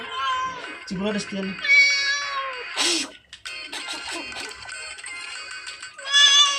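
A cat meows several times, high and drawn out, between stretches of a person talking nearby.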